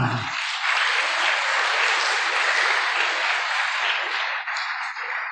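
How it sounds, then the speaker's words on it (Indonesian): Audience applause for a speaker at an Indonesian religious congregation gathering: dense, steady clapping starts abruptly, holds strong for about five seconds, and thins slightly at the end, with no voices over it. "Tepuk tangan untuk Pak Ahmad Salam."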